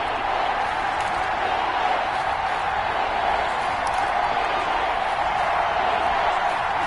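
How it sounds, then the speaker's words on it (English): A video game stadium crowd at a Madden 21 football game roars in a dense, continuous wash of cheering during a big third down, loud and even throughout with no clear breaks. "the crowd getting into it as we come up on a big 3rd down"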